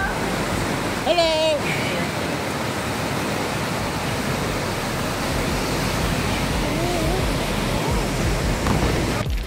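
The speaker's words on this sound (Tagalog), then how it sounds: "look at the waterfall." Johnston Canyon waterfall in Banff National Park gives a loud, steady roar of rushing water that fills the clip, with a person speaking briefly near the start.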